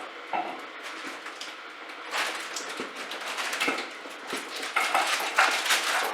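A handful of cranberries dropped into a silver bowl for an autumn punch, giving bright metallic clinks and light rattling, with irregular small impacts scattered throughout and a few louder taps near the end.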